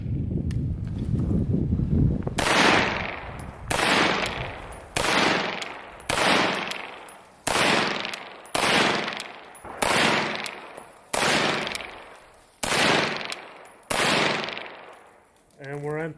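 A Scorpion Evo FDE firing a full magazine: eleven loud, closely recorded strings of rapid gunfire, each a short burst with a ringing tail, evenly spaced about a second and a half apart, ending in a brief click.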